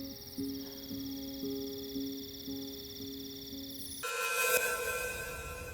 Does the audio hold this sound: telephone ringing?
yes